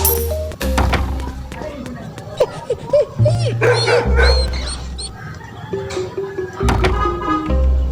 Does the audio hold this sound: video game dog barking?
yes